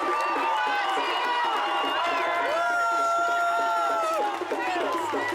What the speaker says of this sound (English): A big round of applause for Dr. Mohammad Adil.